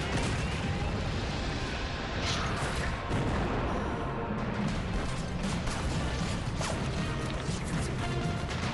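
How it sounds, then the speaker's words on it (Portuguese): Continuous dense World War II battlefield noise with scattered sharp cracks of gunfire, fairly distant and muffled, under a constant roar. "Atrás de mim, ouço mais tiros."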